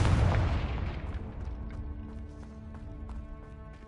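A Confringo blasting spell explodes in the video game Hogwarts Legacy with a loud booming burst that decays over a few seconds, followed by faint clattering and crackling debris.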